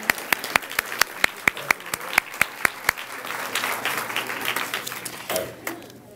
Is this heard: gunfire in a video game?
no